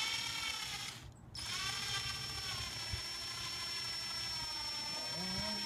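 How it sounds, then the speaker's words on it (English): A power drill running in reverse to wind a wire coil whirs steadily at close range, a continuous mechanical hum with a brief dip near the start, no talking. "with the drill going in reverse"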